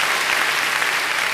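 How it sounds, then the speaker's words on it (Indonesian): Dense congregation applause during a Christmas church service, a continuous even roar of many hands clapping at once with no gaps. "Beri tepuk tangan yang baik buat dia."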